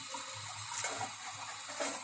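Tap water streams steadily from a pipe while meat, a windpipe, is rinsed, a continuous hissing splash close by with small fluctuations as the flow hits the meat.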